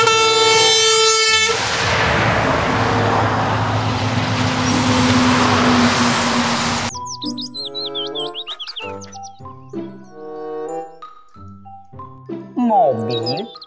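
A toy container truck horn blares loudly, a sustained tonal honk followed by chirpy, playful electronic toy sound effects and jingles, with no talk over it.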